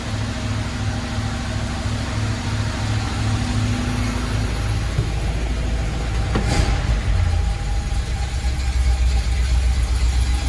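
Engine of a 1981 Oldsmobile Delta 88 idling steadily up close, a low, even hum with a faint tonal drone and one brief bump partway through, no voices.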